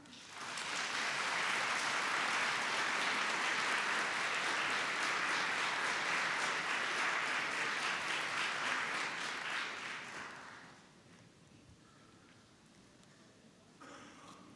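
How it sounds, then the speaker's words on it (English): Graduating students and the audience applaud their friends and family at a University of Manchester graduation ceremony, with dense, loud, sustained clapping for about ten seconds that then fades to quiet hall ambience. "And give a round of applause for your friends and family."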